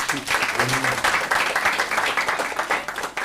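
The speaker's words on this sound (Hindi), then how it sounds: "देवी सज्जनों को जोरदार ताली से।" An audience at a Shiv Katha religious gathering in Auckland claps loudly to welcome a speaker, steady crowd applause with a voice briefly heard near the start.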